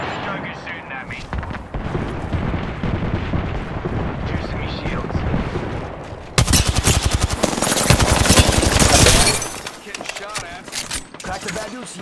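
Gunfire in the video game Apex Legends bursts in loud, rapid automatic volleys, with a heavier barrage toward the end, while a player talks over the action.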